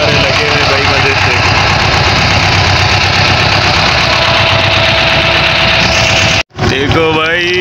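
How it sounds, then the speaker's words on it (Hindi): A vehicle engine idles loudly and steadily at a roadside checkpoint at night, with a constant low rumble and vibration, broken by a brief dropout near the end as people talk over it. "इंजन भी चल रहा है"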